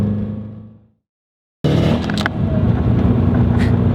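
A tuned 2005 Subaru STI accelerates hard in third gear, its engine a loud, steady roar that cuts in abruptly after a brief silence and holds close and strong to the end.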